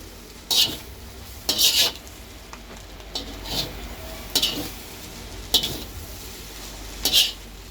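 Noodles being stirred with salt in a frying pan at home, a spoon scraping the pan in several separate bursts over a low background sizzle, with no voices.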